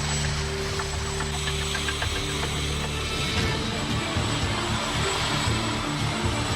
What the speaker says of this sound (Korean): 헬기는 개울가 둔치에 내려앉았다.